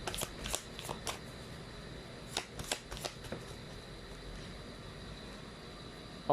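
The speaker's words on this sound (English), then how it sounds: "Now let's pull up the Chinese fortune cards." Chinese fortune cards are pulled from a deck, a quiet series of brisk papery riffles and snaps in two bursts, the second cluster tighter, over faint steady background hiss with no speech.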